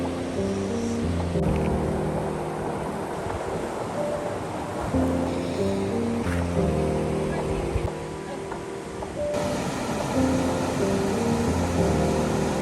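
A river runs strongly after recent snow and rain, a steady rushing roar of water heard outdoors beneath music, with a few faint voices.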